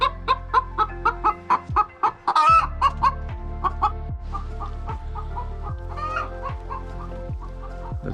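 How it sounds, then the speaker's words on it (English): Chickens at a Swedish chicken farm housed in a greenhouse cluck in a quick run of sharp, close calls, then keep up a steadier stream of softer clucking and fowl chatter over a constant low background hum. "that's what the chicken has got to say about the whole situation"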